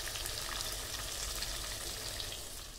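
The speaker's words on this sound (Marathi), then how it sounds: "Chicken leg piece fry." Chicken leg pieces sizzling in a pan of hot oil on a gas burner, a continuous close crackling hiss that tapers slightly toward the end, with no talk over it.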